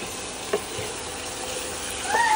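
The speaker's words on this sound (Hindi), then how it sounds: "आनी आतां मिक्स करपाचें" Oil and red food colouring stirred in a pan for chole, a soft continuous sizzle with faint scraping and a small clink, close and steady.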